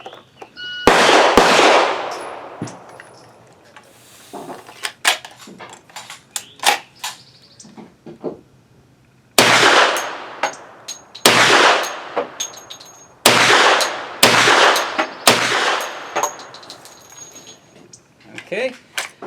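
Gunshots from a Hi-Point 10mm carbine firing 170 grain rounds, loud sharp cracks with ringing decay, spaced irregularly with several shots in quick succession, plus faint metallic handling clinks between shots.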